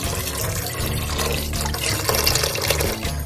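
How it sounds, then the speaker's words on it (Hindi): Water splashes steadily into a pot of black chickpeas for a few seconds, a continuous close pouring sound with no talking. "इसमें पानी डालूंगी"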